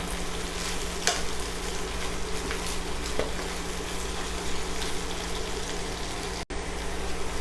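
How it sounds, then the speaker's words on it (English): Spinach being stirred into a frying pan, a constant close sizzle and hiss with a few soft scraping clicks from the utensil and one brief cutout. "Go ahead and stir this in."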